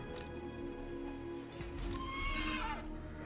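A war horse neighs in the fantasy battle game Total War: Warhammer, a loud rising-then-falling whinny near the end, over a steady game soundscape with hoof clatter.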